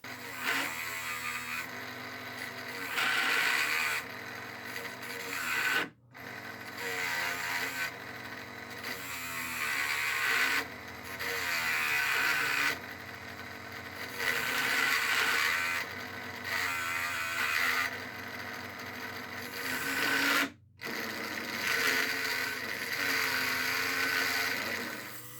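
Continuous whirring mini wood lathe drone with a rough cutting scrape from a homemade beading tool rising and falling in long passes, broken by two brief pauses.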